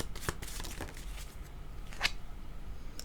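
Tarot cards are shuffled by hand in a quiet room, a faint run of soft riffles and flicks with a few crisper snaps, no voices.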